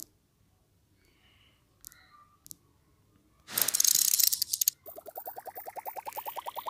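A spin wheel in an online earning app: a few soft tones and a tap, then a bright burst followed by a rapid, evenly spaced ticking that keeps going as the wheel turns.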